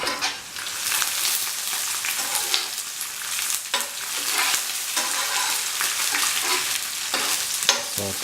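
Onions frying with dried red chilies, green chili and salt for a yam and ash gourd masala stew, giving a steady close sizzle with intermittent scraping stir strokes throughout.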